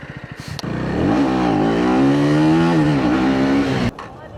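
A motorcycle engine revs up hard for a wheelie on a public road through the forest on a ride to Agumbe, rising after a few idle pulses into a loud sustained whine that drops off abruptly.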